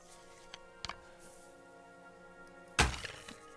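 Arrows striking an archery target in Kingdom Come: Deliverance II, heard as a few soft thunks at low level, then one sharper, louder thud near the end over a quiet game background, with no voices.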